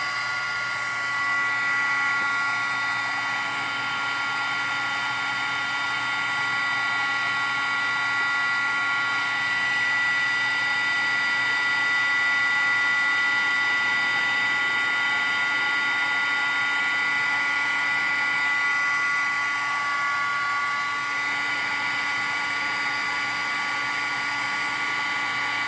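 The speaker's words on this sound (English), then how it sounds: "Now I'm going to get my Martha Stewart heat tool" A Martha Stewart heat tool blows hot air in a steady, unbroken whine with a whirring fan hum, running loud and close the whole time.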